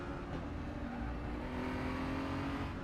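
A race car engine in a racing video game drones steadily at low volume, a constant hum with no clear revving peaks and no talk over it.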